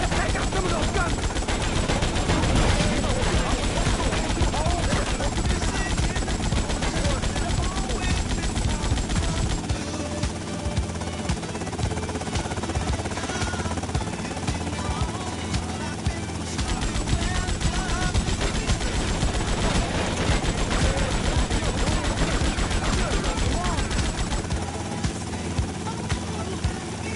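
Dense, continuous gunfire from GTA Vice City Definitive Edition, with rapid machine-gun bursts and single shots layered over a helicopter's steady rotor drone, loud and sustained throughout.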